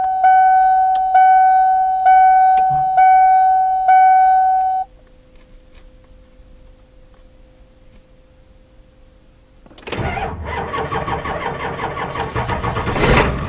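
A van engine is jump-started from a 50 amp charger: several rhythmic cranking bursts, a pause with a faint steady tone, then the engine catches and settles into a loud, rough idle.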